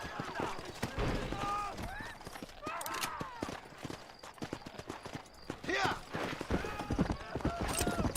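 A horse's hooves clip-clop in the video game Red Dead Redemption, a close and uneven rhythm of hoofbeats heard under people talking, with an occasional faint snort.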